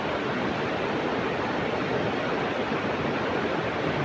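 Water rushing steadily down a waterfall near Jogighat bridge, a dense continuous roar that stays loud and even, with no voices.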